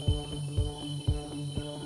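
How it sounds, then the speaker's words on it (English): Insects, called cicadas, trill steadily in a mangrove jungle late in the day, a continuous high buzz with soft low thumps recurring roughly every half second beneath it. "The cicadas are starting to pick up,"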